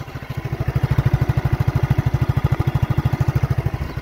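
A Yamaha Vity 125 scooter engine idles up close with a steady, rapid putt-putt pulse that holds even and loud from start to finish.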